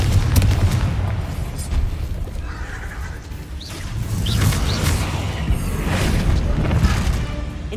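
Confringo blasting-spell explosions in Hogwarts Legacy go off as booming blasts within dense, noisy game action, with a horse-like whinny cutting through.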